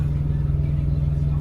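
A truck pulling into a loading dock gives a steady, low engine rumble that holds an even level throughout, close and continuous with no talk.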